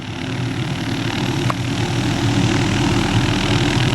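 A Hughes 500D helicopter used for tree trimming throttles up for takeoff. Its engine gives a loud, continuous droning roar close by that swells slightly and holds steady throughout.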